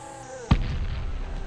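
A single deep cannon boom in the video game Guts and Glory bursts out of quiet game ambience, its low rumble trailing off over the following second.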